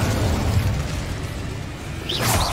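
In Hogwarts Legacy, a fire spell unleashes a loud, roaring fiery blast with a sustained rushing burn and a brief whooshing flare near the end.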